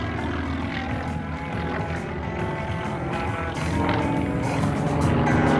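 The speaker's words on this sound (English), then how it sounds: "Just look at the way this airplane climbs, folks." A 435-horsepower Yak-50 aerobatic airplane roars loudly and steadily at an air show during climbs and snap rolls. The propeller engine drone swells slightly toward the end with no talk.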